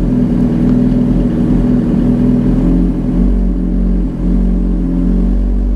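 Suzuki GSX-R1000 motorcycle engine with a Healtech iQSE-1 quickshifter, revving loud and close with quick gear changes made without the clutch, the pitch dropping and rising at each shift.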